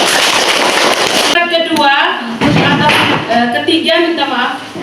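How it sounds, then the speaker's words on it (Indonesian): A group of schoolchildren at an elementary school claps hands together, a loud burst of rapid, uneven clapping at first that gives way to voices talking over scattered claps. "Oke, tepuk tangan untuk Ici."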